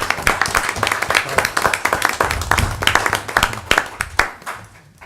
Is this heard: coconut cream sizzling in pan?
no